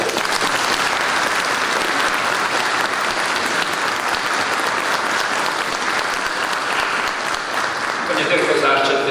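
Parishioners and guests in a church applaud a choir after a Christmas carol concert, a steady, full round of clapping filling the space for about nine seconds before a voice begins speaking near the end.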